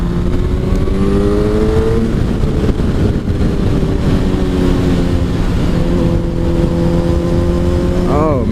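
A motorcycle fitted with a swapped-in GSXR engine runs steadily and loudly close by, its engine tone rising and falling as it revs with wind buffeting the microphone throughout.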